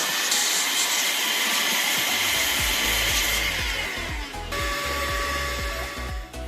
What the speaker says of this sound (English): blow the dust out of them with compressed air or a compressor.